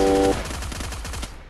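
Rapid automatic gunfire from the mobile battle royale game Free Fire MAX, a dense burst of loud shots with a clipped tone at the start that trails into scattered fire.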